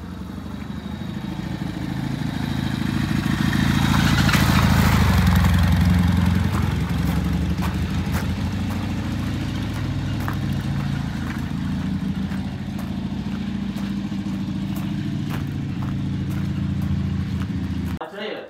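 A vintage British motorcycle engine runs steadily on a test ride, a continuous low rumble that swells briefly near the start and then holds loud and even throughout.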